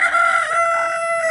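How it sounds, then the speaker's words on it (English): A rooster crows indoors at a guest house, a loud, close, sustained cock-a-doodle-doo filling the room with no voices over it. "There's a rooster. It's inside."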